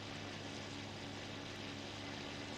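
A propeller aircraft engine in the IL-2 flight game drones steadily as a constant, dense mechanical hum with a low throbbing tone, quiet and unbroken throughout.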